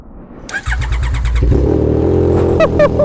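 A Yamaha R9 sport motorcycle with an SC Project CR-T exhaust cranks with quick stuttering turns, then fires up for the first time and settles into a loud, rumbling idle with a couple of sharp blips.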